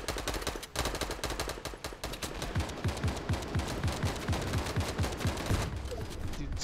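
Rapid automatic gunfire rattles in a mobile battle royale video game match, a long burst of evenly spaced shots after a brief opening volley, loud and close with no talking.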